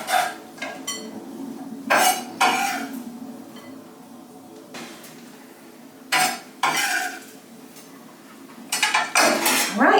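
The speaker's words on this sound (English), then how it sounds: "we're just gonna give this a toss" White bean salad with onion tossed in a bowl, producing irregular bursts of clinking and scraping utensils against the dish, separated by quieter pauses.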